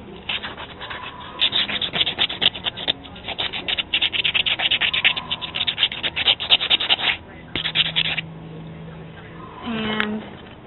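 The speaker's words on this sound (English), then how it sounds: "take a piece of sandpaper and sandpaper the end so that it's rounded out" Sandpaper rubbing and scratching against the cut end of a tiny miniature dollhouse plunger handle, rounding it off in steady close strokes, with a short pause near the end.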